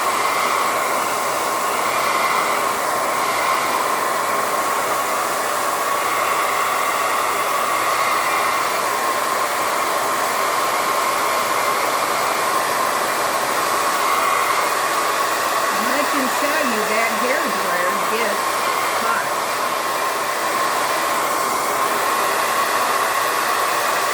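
Hair dryer drying a craft project, a loud steady blowing whir running unbroken for the whole stretch, close to the microphone, with slight wavering pitch and no speech.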